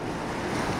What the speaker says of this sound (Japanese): 海ですね。